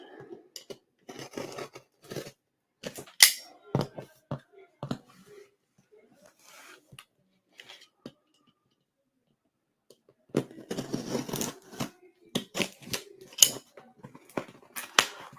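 Tape being sliced and ripped off a heavily taped cardboard box, with sharp cuts and tearing bursts in two clusters separated by a quiet pause, close and fairly loud.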